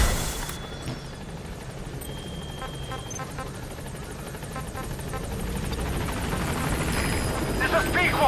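The B-Quad support helicopter in Metal Gear Solid V: The Phantom Pain approaches the landing zone, its steady rotor drone holding throughout and swelling slightly toward the end, with a radio voice speaking over it.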